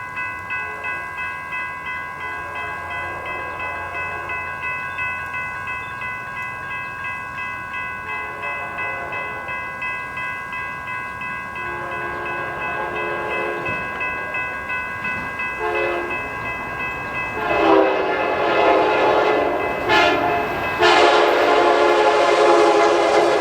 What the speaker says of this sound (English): another train would be quickly approaching us from the north